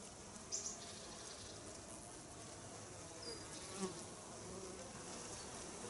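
Steady, dense buzzing of many honeybees close by at the hive on a sunny morning, a continuous hum with a few individual bees flying past.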